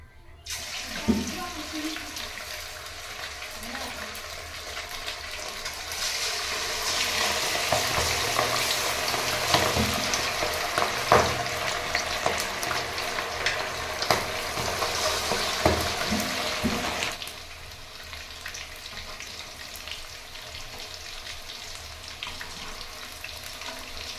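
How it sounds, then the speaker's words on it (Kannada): Garlic kebab pieces drop into hot oil and fry with a broad hissing sizzle that swells loudly for about ten seconds, then settles to a softer steady bubbling. "ಸೊ ಎಣ್ಣೆ ಕಾಯ್ದಿದೆ ಗಾಯ್ಸ್, ಬಿಡ್ತಾಯಿದ್ದೀನಿ ಇದು ಕಬಾಬು."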